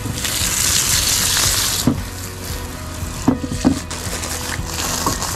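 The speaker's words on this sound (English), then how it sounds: "A little bit of water." Water runs from a tap into a cast iron pot being restored, a steady splashing gush with a few knocks and clanks of the pot as it is handled nearby.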